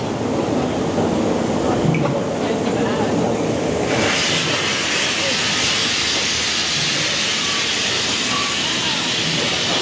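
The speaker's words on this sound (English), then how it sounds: "that stream of blowing and bubbling from these here devil's paint pots now" A steady, loud hiss of escaping steam roars continuously from bubbling hot-mud paint pots on a mine train ride, growing brighter and harsher partway through, with a low rumbling churn underneath.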